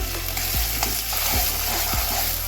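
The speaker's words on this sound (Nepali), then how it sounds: "अब हामीले चाहिँ ऐना फुटाएर राखेको दुईटा अन्डा चाहिँ हालेर फेरि फ्राई गर्दैछौँ" Two eggs sizzle and fry in a hot pan with crunchy fried rice ingredients, a steady close frying hiss broken by a few scraping stirs of the spatula; no talking.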